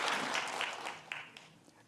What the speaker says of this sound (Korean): 어울러서 박수를 한번 하겠습니다.